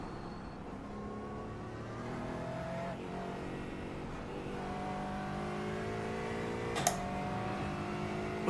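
A GT4-class race car engine in a simulated endurance race on the Nürburgring Nordschleife drones steadily at high revs, its pitch sweeping up through gears, with a brief sharp click near the end.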